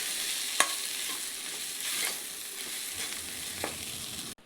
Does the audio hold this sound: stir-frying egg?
yes